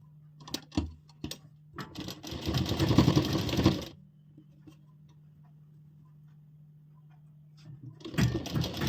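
A sewing machine stitches a ladies' salwar in short bursts: a few quick taps, then a sustained rapid whirring run of about two seconds, a quiet pause with a low hum, and another burst at the end; no voices are heard.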